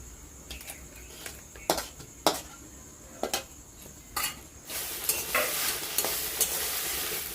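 Taro leaves being stirred and fried in a pan, with sharp metal spoon scrapes and clinks against the pan at irregular intervals, followed by a steady, louder sizzle near the end; no talking.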